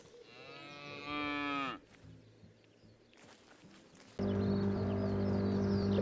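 Cattle mooing in the farming game Pure Farming: one long, loud, tonal moo fades out, a quieter stretch follows, then another sustained moo sounds close and loud to the end, with no talking.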